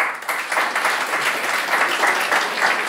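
A stand-up comedy audience claps in a brief, moderately loud burst of applause, dense and steady.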